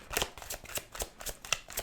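Quick riffling of tarot cards being shuffled, several short crisp bursts in an uneven rhythm, close and clear.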